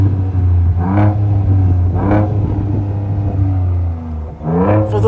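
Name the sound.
2023 Ford Ranger Raptor exhaust revving in Baja mode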